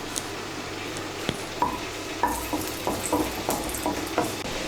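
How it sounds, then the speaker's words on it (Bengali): Four dried red chillies frying in mustard oil in a pan, a soft steady sizzle broken by a series of light clicks and taps from a spoon against the pan. "এর মধ্যে প্রথমে আমি শুকনো লঙ্কাগুলো ভেজে নেব।"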